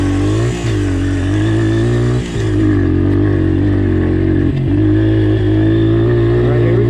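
A Honda XR motorcycle engine drones loud and close on a rocky trail ride, holding a steady mid-pitched note with brief dips and revs at gear changes.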